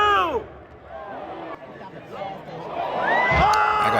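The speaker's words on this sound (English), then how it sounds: "the crowd was loving it" Crowd at a live wrestling event cheering and whooping, a loud mass of shouting voices that swells toward the end, with individual yells rising out of the roar.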